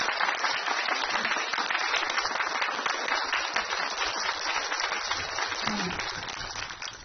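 An audience applauds at a gathering, a dense, continuous wash of clapping that holds steady and loud throughout, with a faint voice or two surfacing briefly beneath it.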